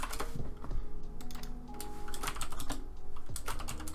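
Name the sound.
typing on computer keyboard to name a layer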